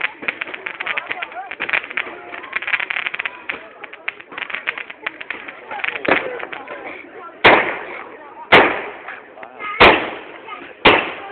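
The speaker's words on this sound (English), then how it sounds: "try and get the fireworks" Bonfire night fireworks burst outdoors, a crackling stretch followed by four sharp, loud explosions spaced about a second apart, each with a decaying tail.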